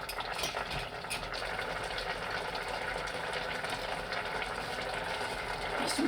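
Beans bubble and simmer in a pot with a steady, even sizzling hiss that holds at a constant moderate level throughout, with no talking.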